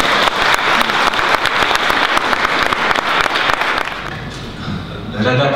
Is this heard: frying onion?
no